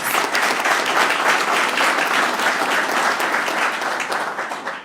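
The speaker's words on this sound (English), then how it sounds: "I'd like to give them a round of applause." Sustained audience applause fills a mayor's press event in Chicago, a loud, dense wash of many hands clapping steadily before tapering slightly at the end.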